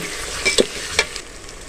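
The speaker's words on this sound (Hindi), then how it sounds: "अब इसमें लहसुन अदरक का पेस्ट शामिल करेंगे। इसमें तो भी अच्छी तरह भूनेंगे।" Garlic ginger paste fries with onions in a pan, a soft steady sizzle broken by a few quick stirring scrapes, heard close and alone.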